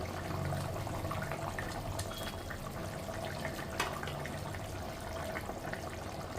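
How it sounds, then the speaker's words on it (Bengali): Rohu fish curry gravy with potatoes simmers in a pot as fried fish pieces go in, giving a soft, continuous bubbling and watery hiss at low volume with no talking. "ঝোলটা ফুটে গেছে ঠিকই কিন্তু আলুটা সেদ্ধ হয়নি"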